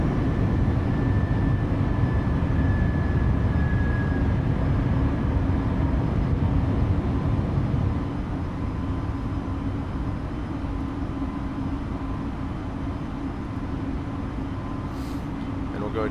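Vueling Airbus A321neo engines climbing out after takeoff: a loud, steady broadband roar heard from inside the cockpit. It eases slightly to a lower, even level about halfway through.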